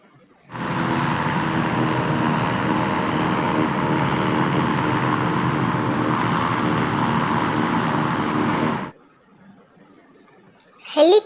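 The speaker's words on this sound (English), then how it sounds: "Blimp," A blimp's engine drones steadily at close range, a constant loud hum lasting several seconds before cutting off abruptly, followed by a brief faint noise.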